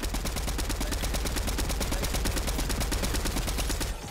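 Rapid automatic gunfire in Fortnite rattles in a steady, unbroken burst, loud and close, stopping abruptly at the end.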